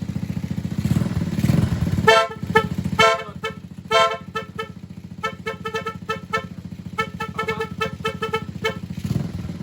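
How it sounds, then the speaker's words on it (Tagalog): Repeated short car loudhorn honks, wired through a relay, in quick bursts over a steady engine rumble, some beeps clustered rapidly, others spaced out, loud and close. "Dito na dun sa busina."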